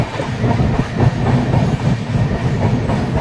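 The Dhauli Express from Puri to Shalimar rolls through Bhadrak station, steady rumbling with rhythmic clickety-clack of wheels over rail joints, loud and close.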